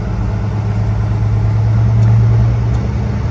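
A truck engine under way on a cold road, a loud, steady low drone with a sustained tonal hum that swells slightly midway, no talk.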